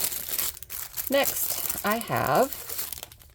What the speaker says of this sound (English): these clear plastic bags that have the reclosable seal on them